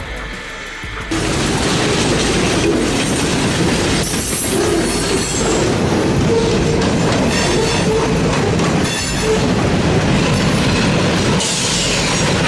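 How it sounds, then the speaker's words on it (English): A train rumbles and rattles loudly on the tracks, a continuous clattering roar with metallic screeching wheel squeals rising at moments. "The entire train has been shaking continuously on the tracks"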